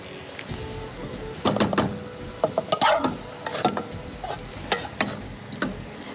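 Food sizzles steadily in a hot pan with pasta and cream, broken by sharp scraping stir strokes and clinks of a utensil, close and fairly quiet with no voices.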